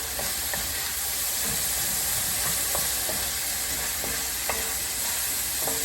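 Frozen corn hitting a hot pan on high heat, a loud dense sizzle and hiss that holds steady throughout, with occasional light scraping of a utensil.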